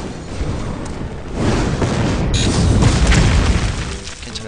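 Bomb explosions erupt as a heavy, rumbling boom that swells after a quieter start, loud and close, then slowly fades.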